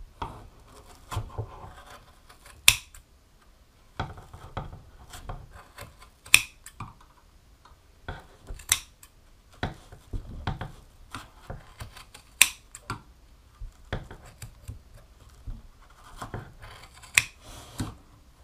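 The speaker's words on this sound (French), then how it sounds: "on place le ciseau et je vous conseille de couper au fur et à mesure parce que là, par exemple, la laine est vraiment très grande" Scissors snip through long strands of wool yarn while making a pom pom, a series of sharp, close, irregular cuts with short pauses between them and no voices.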